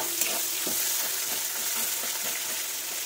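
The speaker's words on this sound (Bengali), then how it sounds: "পেঁয়াজটা একটু নাড়া যখন একদম ভাজা ভাজা হয়ে গেছে" Onions are stirred and fried in a kadai, a close, steady sizzle with soft scraping stirs breaking in now and then, and no one speaking.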